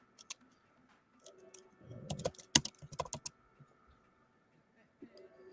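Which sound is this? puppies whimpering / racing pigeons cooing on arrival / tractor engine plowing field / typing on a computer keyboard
typing on a computer keyboard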